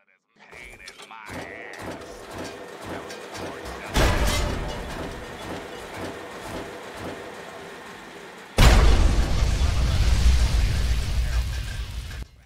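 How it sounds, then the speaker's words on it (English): A Rube Goldberg machine in Fallout 3, set off by a bottle: a run of clanking mechanical clicks and rattles, then a heavy thump and a louder rumbling, crashing burst near the end. "As you can see, we got a pretty cool Rube Goldberg machine here."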